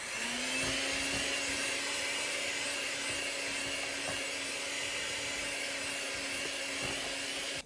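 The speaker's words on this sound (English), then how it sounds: "That mixer really starting to feel it." An electric mixer labours steadily through thick snickerdoodle cookie dough as flour is worked in. It gives a continuous motor drone with faint irregular knocks, fairly quiet and close, and there are no voices.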